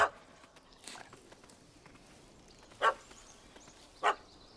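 Dog barking in The Witcher 3 video game: two short, moderately loud barks spaced about a second apart over a quiet ambient background with faint footsteps.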